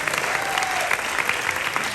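Audience applause during a borough president's State of the Borough speech at Hunter College, a dense burst of hand clapping from a large indoor crowd, loud and continuous.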